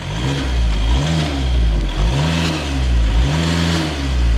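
A Volkswagen Golf GTD diesel hatchback accelerates, its engine note rising in repeated surges as gears change, heard loud and close from inside the cabin without speech.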